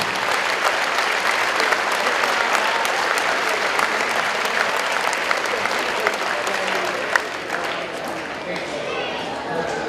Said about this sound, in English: Round of applause for our 2014 scholarship winners.